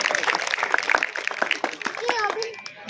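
A crowd at a political stage event in India claps for Sushil Jangra, a quick patter of hands at moderate distance that thins out, with voices and someone talking over and after it.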